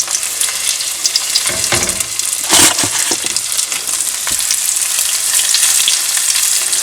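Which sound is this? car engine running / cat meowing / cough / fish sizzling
fish sizzling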